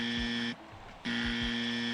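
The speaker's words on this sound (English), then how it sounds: "The buzzers are working just fine in Houston to start this game one." Stadium home-run buzzers in an eMLB baseball video game at Houston blare as steady loud electronic tones. They cut out for about half a second, then resume over crowd noise.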